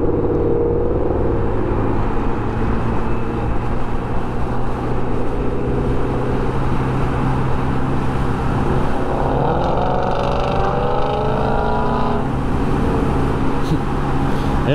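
A 2022 Honda NAVI scooter at about 90% throttle holding steady speed in commuter traffic gives a loud, continuous engine drone with wind and road rush throughout, with a faint tonal sweep partway through.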